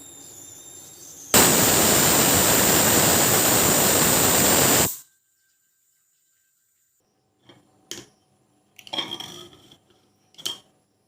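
A pressure cooker of khichdi lets out one loud, sustained whistle of rushing steam lasting about three and a half seconds, followed by silence and a few faint clinks and short rattling sounds.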